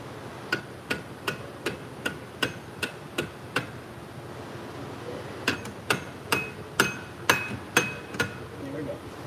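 A hammer strikes an A/C compressor clutch on a 2009 Subaru Outback 3.0L H6: about twenty sharp, ringing metallic blows in a steady rhythm, close and clear, with a short pause midway before the hits resume.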